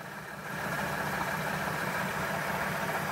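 A van engine starts and settles into a rough, uneven idle after an injector repair attempt, a steady close rumble with a faint irregular knock running throughout, no talking.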